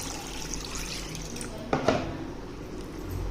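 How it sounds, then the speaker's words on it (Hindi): Water splashes briefly into a bowl of raw beef pieces coated in salt and vinegar, a short pour standing out over a faint background hiss. "अब इसके अंदर पानी डाल के इसको डिप करके"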